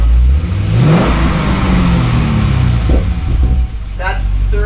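An FRS/BRZ/GT86 sports car with an aftermarket exhaust, in neutral, revs up to about 3,000 RPM. The loud engine drone rises and holds, then drops away near the end, and a voice talks over it.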